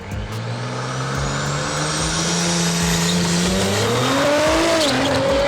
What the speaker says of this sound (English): Now Nick's SQ5 sounded so good going down the drag strip.